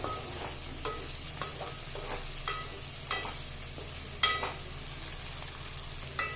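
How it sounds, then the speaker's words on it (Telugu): Chopped onions for a mutton curry sizzle and fry in hot oil with a steady crackle, punctuated by occasional scraping stirs of a spoon, with no talking. "ఇప్పుడు ఉల్లిపాయలు గోల్డెన్ రంగ్ కలర్ వచ్చే వరకు వేయించుకోవాలి"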